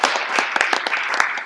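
Audience applause at a college sports symposium, a dense, steady wash of many hands clapping close and loud, with no pause across the short burst and a faint voice mixed in.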